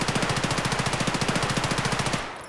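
An MPX submachine gun firing in Escape from Tarkov, a loud, fast, even burst of roughly two dozen shots over two seconds, ending abruptly with a short echoing tail.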